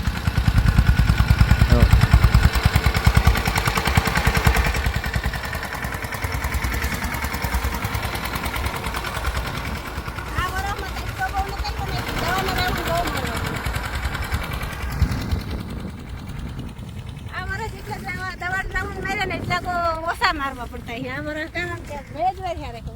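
A small tractor's engine rattles and chugs steadily on a farm plot while it sprays pesticide, a constant close mechanical drone with someone talking over it.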